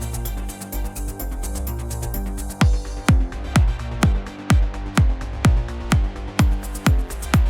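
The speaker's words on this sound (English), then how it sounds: "you get that really nasty kind of wide metallic sound from that" An Ableton synth lead of sharp plucked notes with a bright, wide metallic ring, repeating in a steady rhythm over a sustained, busier backdrop.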